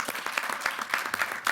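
A short burst of applause from an audience at an invitational announcement in Belfast, steady crowd clapping heard alone for a second and a half.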